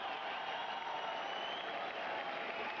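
A packed boxing arena crowd at a WBO world featherweight title fight cheers and applauds in a continuous roar, distant and diffuse, with no single voice standing out.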